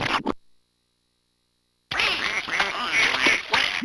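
Ducks quack in the Fisher Price Splatster video game, with short nasal calls over busy game sounds, following a brief burst and then a silent gap.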